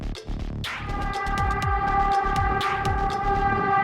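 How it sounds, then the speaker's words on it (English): A New York City subway work train sounds its horn, a loud sustained multi-tone blast over rumbling, clattering wheels on the track, close by and steady throughout. "Ooh, a train honking."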